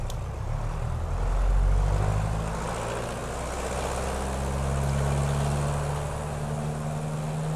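Aero Ae-45 twin-engine plane in Microsoft Flight Simulator 2020, engines throttling up: a loud, close propeller drone that swells and rises in pitch, with the low hum shifting upward and continuing steadily.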